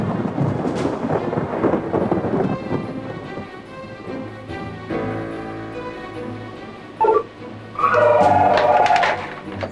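Thunder rolls and rumbles through a thunderstorm with rain, loud sustained booms fading into a low roar, with some higher tonal sounds near the end.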